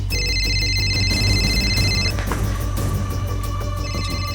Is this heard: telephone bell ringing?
yes